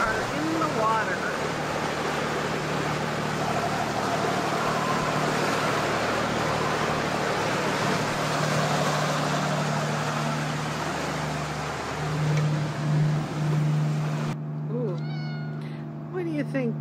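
A trawler motoring through choppy, lumpy water in Swanson Channel on a breezy day, its engine a steady low hum beneath broadband wash and wind noise throughout, with the water sound dropping away near the end.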